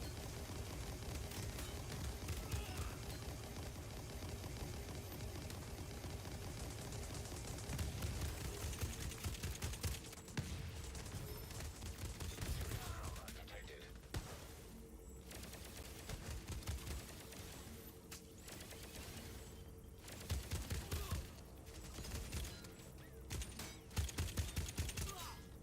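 Rapid bursts of gunfire from a gun in a video game, firing in clustered volleys with brief gaps, set against constant game noise.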